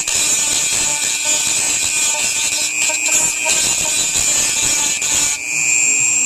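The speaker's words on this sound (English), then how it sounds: "On your Dremel tool, put a grinding bit on it" A Dremel rotary tool fitted with a grinding bit whines at a high, steady pitch while cleaning pinball machine sockets, with scratchy contact noise beneath it, loud and close, briefly dipping near the end.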